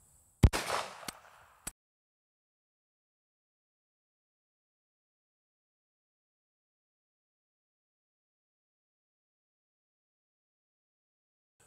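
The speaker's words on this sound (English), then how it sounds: "So I'm gonna shoot this 9mm through this half inch drywall" A single 9mm ball round fired from a pistol through two layers of half-inch drywall: one sharp, loud report with a short ringing tail and a faint echo, then a brief smaller crack, followed by silence.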